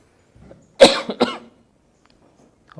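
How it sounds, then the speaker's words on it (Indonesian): A single person coughs twice in quick succession, close and fairly loud, during a quiet Buddhist dharma talk, with silence before and after. "Oh, batuk-batuk ya."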